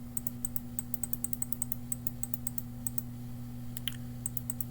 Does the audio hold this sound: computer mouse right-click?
yes